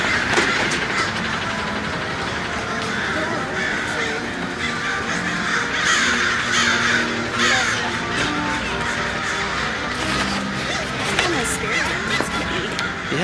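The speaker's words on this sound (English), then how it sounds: "record all the crows coming in" Many crows caw continuously from a sizable flock, a dense, noisy chorus of harsh calls with some background chatter.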